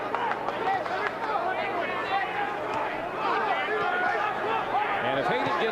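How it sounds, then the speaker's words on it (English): A boxing crowd at the 1994 Andrew Golota vs Darren Haden bout roars steadily behind the underdog Haden, a dense, continuous arena hubbub of cheering and chatter with no single voice standing out. "And the crowd now getting behind the underdog"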